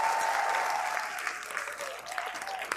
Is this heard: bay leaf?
no